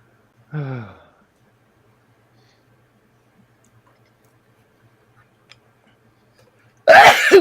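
A close, loud sneeze bursting out abruptly after several seconds of near silence, preceded by a brief vocal sound earlier on.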